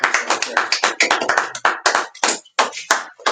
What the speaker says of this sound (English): Give both of my readers an applause, man, for the work they doing.